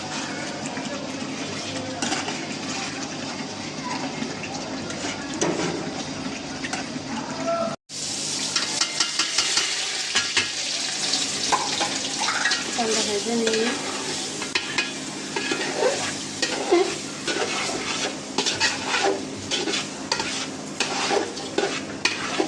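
Rice for biryani frying and being stirred in a pot, a steady sizzle with continuous scraping and stirring, briefly cut off near the start, then louder and busier with clinks of the spoon against the metal.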